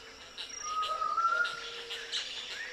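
A clay-colored thrush sings from the top of a palo mulato tree in a clearing along an arroyo, giving clear whistled phrases, moderately near, with insect chirring in the background.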